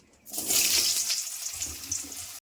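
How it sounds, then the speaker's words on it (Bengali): Pointed gourd and potato pieces hit hot white oil in a kadai, a loud steady hiss and sizzle that starts abruptly and runs on for about two seconds before cutting off. "এবার আমি পটল আলুগুলো ভেজে নিচ্ছি।"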